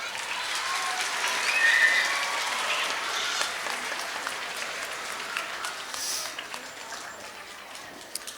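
Students at a school Student of the Month assembly applaud together, a broad, steady wash of clapping that swells early and slowly tapers off, with no one speaking over it.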